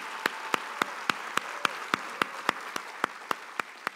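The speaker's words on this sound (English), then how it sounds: "You must applaud his parents." An audience at a family celebration claps for a young man's parents: a steady, evenly spaced run of about fifteen crisp claps, moderately quiet and heard without talk.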